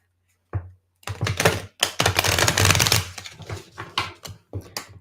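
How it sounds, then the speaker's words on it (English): Papery riffling and soft clacking bursts come in quick irregular flurries, close by, as a tarot card deck is shuffled, with short pauses between. "So I'm going to shuffle my deck here."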